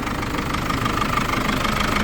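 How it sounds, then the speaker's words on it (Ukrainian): A 2005 VW LT-35 van's 2.8 turbodiesel engine idles steadily up close, a rough, even knocking rumble with no voices over it. "Чист, чітка робота двигуна."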